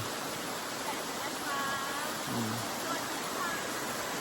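Waterfall in a Thai forest setting, a constant broadband rush of falling water filling the whole stretch, steady and close, with a brief faint bird or voice-like chirp partway through.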